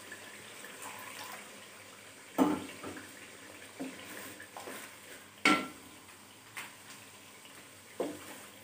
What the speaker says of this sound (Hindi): तो आपने इसको पानी डालना है पहले थोड़ा सा।